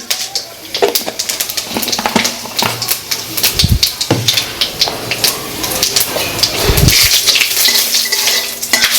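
Bay leaf and panch phoron spit and crackle in hot oil in a kadai, with a spoon stirring and clinking against the metal in irregular bursts; the sizzle is close and busy throughout.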